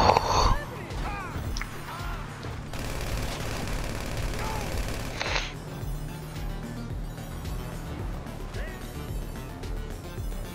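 Gunfire in GTA 5 Online's Los Santos Drug Wars, bursts of shots and rapid fire mixed with game effects and blasts, with people talking over the action now and then.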